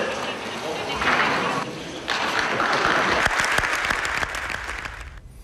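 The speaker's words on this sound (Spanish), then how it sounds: "La gente aplaude." Studio audience applauding on a Peruvian television talk show, a dense, steady clatter of many hands that holds at full strength for about five seconds before thinning out at the end.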